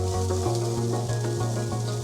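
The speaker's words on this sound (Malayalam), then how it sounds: "നമുക്ക് ചെറുതായി ഒന്ന് വറുത്ത് കൊടുക്കാം" Cinnamon, pepper and cloves being fried in a pan for mutton curry, giving a steady sizzle with a constant low hum underneath and no talking.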